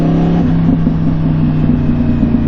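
A motorcycle engine runs steadily at a constant, loud drone with a low humming tone, heard close and continuous without changes in pitch.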